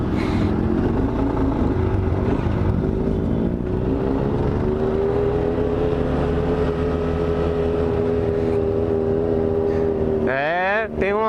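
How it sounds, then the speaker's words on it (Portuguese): A group of about 25 motorcycles, including a Dafra Next 250, rides together in a loud, continuous engine drone from close by, with wind rushing over the microphone and a rising rev near the end. "É, tem umas 25 motos junto."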